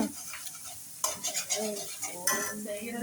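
An egg fries in a pan with a soft sizzle, mixed with stirring and scraping of a utensil against metal. The clatter comes in irregular bursts with a couple of sharper scrapes.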